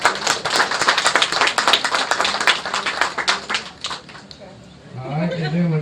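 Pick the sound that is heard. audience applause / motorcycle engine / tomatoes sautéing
audience applause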